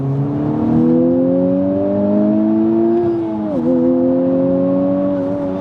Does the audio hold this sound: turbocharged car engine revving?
yes